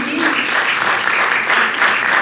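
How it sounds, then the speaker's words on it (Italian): An audience at an icon presentation bursts into steady, dense applause, loud and close, continuing evenly for a couple of seconds with no pause. "un applauso, sì"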